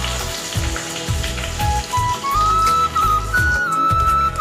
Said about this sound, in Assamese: মাছ ভজা তেলতেই এতিয়া মই পাঁচফোৰণকেইটা দি দিম